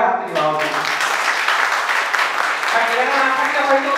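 An audience at an academy event in Siliguri applauds two mothers on stage with sustained, loud crowd clapping that swells and holds, mixed with voices.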